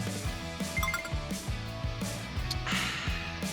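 Bottles of honey water knock together in a toast, giving a few bright clinks over a low, steady background.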